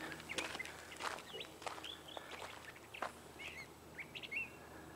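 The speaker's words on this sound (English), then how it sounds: "Birds singing over there." Small birds chirp and trill in scattered bursts along a quiet desert hiking trail among cacti, the calls fairly faint and set against soft footsteps and low ambient hiss.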